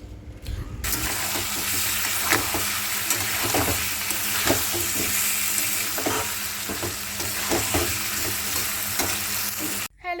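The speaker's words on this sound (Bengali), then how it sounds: "দেখো ও খুন্তি নাড়ছে" A spatula stirs food frying in a pan, a constant loud sizzle broken by regular scraping strokes all the way through, heard close with no voices.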